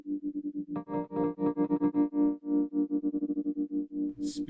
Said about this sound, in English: Speeding up and slowing down the tremolo.